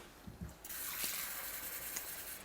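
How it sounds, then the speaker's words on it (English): Water pours steadily into a bowl of no-knead sourdough bread dough, a continuous close splashing rush that begins after a couple of soft knocks and runs to the end. "I'm going to put that water straight in because I reckon we'll need it."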